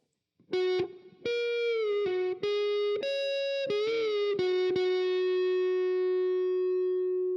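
Distorted electric guitar plays a short phrase of picked notes from the solo of a song, ending on a bent note on the third string that rises and rings out long, loud and close.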